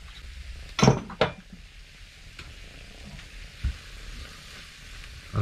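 A steady hiss of Worcestershire sauce frying in a hot pan on a narrowboat, with a brief sharp sputter near the start and a few soft clinks.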